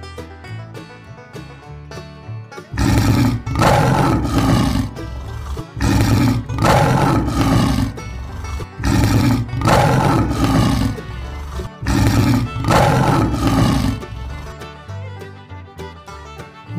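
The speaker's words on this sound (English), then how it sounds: "Lion." A lion roars in loud, powerful repeated bursts, about five roars spaced a couple of seconds apart, each with a heavy rumbling low end, alone with no talk.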